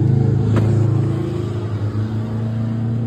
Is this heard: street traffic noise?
yes